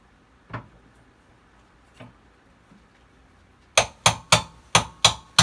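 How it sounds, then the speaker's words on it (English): Metal taps on a hot tub pump's front flange during bearing replacement: two or three soft, isolated knocks, then six loud, evenly spaced hammer strikes close up. "So as you're tapping on this, you want to rotate the front flange so you don't bind it on there."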